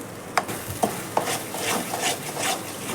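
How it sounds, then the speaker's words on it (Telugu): Fish curry masala with rock salt frying and stirred in a pan, with a steady sizzle and a few distinct spoon scrapes near the start, close and moderately loud, no talking. "ఇప్పుడు ఆ ఉప్పు అంతా మసాలాలో కలిసిపోయే విధంగా మనము ఫ్రై చేసుకోవాలి."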